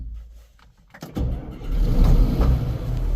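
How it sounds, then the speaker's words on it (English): A John Deere 4440 tractor that had sat unused for a while starts up. A second of near quiet gives way to a few quick cranking bursts, then the engine catches and settles into a loud, steady rumble. "So what are the chances our 4440 starts?"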